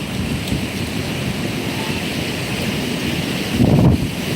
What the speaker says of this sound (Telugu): వర్షం బాగా పడుతుంది